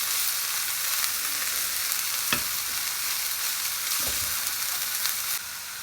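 Chicken filling with red chili powder and turmeric frying in a pan, a continuous bright sizzle throughout with a couple of soft stirring scrapes, no talk.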